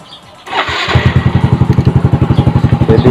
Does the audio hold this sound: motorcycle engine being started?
yes